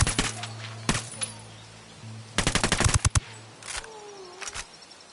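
Gunfire in a cartel-raid video game: a short automatic burst and scattered single cracks, then a rapid sustained volley, followed by a few more isolated shots, loud and sharp against a low engine hum.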